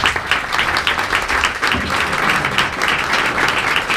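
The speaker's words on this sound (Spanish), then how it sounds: "Un gran aplauso, ¿eh?" Steady crowd applause at a casual gathering, dense clapping filling the space for several seconds at a fairly loud, even level with no talk over it.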